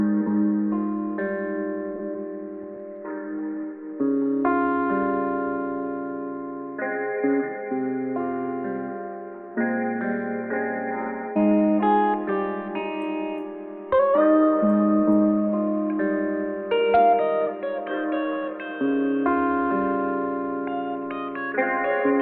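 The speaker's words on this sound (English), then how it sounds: "This is what the guitar melody is going to sound like right here." A melodic Midwest emo guitar line played alone, clean but shaped with reverb, echo and EQ, with bright ringing notes and strummed chords flowing steadily for over twenty seconds, upbeat and poppy.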